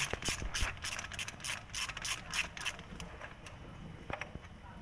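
Ratchet socket wrench with a 16 mm socket and long extension loosening a bolt while servicing a Toyota Etios taxi; quick repeated clicking strokes, close and moderately loud, easing off toward the end.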